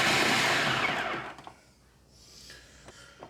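A kitchen mixer kneads shawarma bread dough with a loud, steady whir for over a second, then winds down and leaves quiet gaps broken by a few faint knocks and a sharp clunk at the end.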